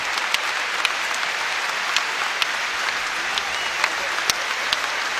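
Basketball crowd at North Carolina, during a Duke at North Carolina game, applauding an injured player as he walks off; steady, dense clapping fills the whole stretch with a few sharper individual claps popping out.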